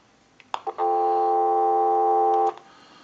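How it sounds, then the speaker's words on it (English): A few soft clicks, then a steady, loud electronic dial tone from a Mickey Mouse animated telephone hums continuously for nearly two seconds before cutting off abruptly. "give you some dial tone"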